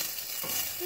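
An egg frying in a pan, giving a brief, steady close sizzle and crackle with no voices.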